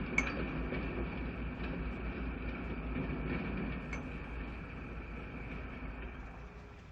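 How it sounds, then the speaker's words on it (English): An EMD E7A diesel locomotive, number 102, hauls a passenger train past a tower near Joliet, Illinois, with a steady, heavy rumble of engine and rolling cars that holds throughout and fades slightly toward the end. "EMD locomotive number 102 and E7A pulls train number 1, the Limited"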